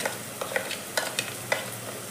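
A spoon scrapes and stirs ground spices (garam masala, turmeric, red chilli powder, cumin and coriander powder) roasting in hot oil with tomato and onion for potato-soyabean bhaji, several short scraping strokes over a soft sizzle.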